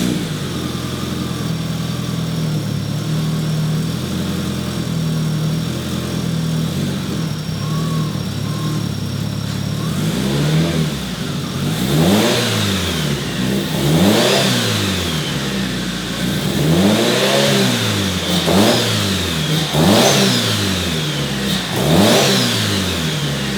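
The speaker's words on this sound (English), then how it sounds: "You just leave this off, give it a quick rev, check that nothing's coming out of it" A big block engine with the intercooler pipe left off idles with a deep rumble, then gets a series of quick revs, each rising and falling sharply, loud and close.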